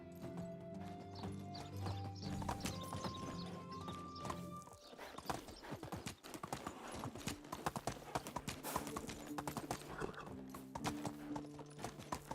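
Horse hooves clip-clop steadily in the medieval video game Medieval Dynasty, a rhythmic stream of close hoofbeats with a horse whinny and background music early on.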